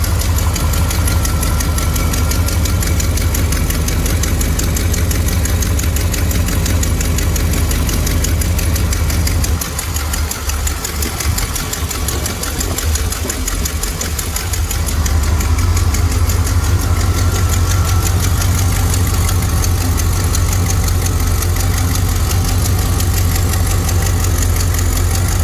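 A Vortec car engine idles with a steady low rumble and faint mechanical knocking, running continuously throughout, close by.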